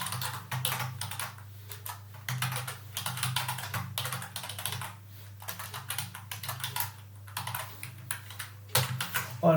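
Rapid typing on a computer keyboard while writing server-side session-management code, bursts of close, crisp key clicks with brief pauses between runs, no talking.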